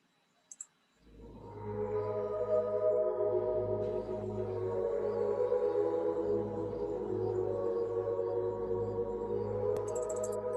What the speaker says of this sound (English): I threw an arpeggiator on there so it kind of give it a more of an atmospheric sound